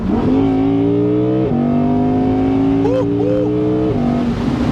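An Audi R8 V10 Performance Spyder engine revs hard and high, pitch climbing and dropping through gear changes, loud and close throughout.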